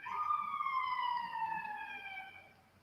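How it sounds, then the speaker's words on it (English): A wailing siren in Mexico City sweeps steadily in pitch, fairly close and loud, then fades slightly toward the end; no talking. "That's a siren"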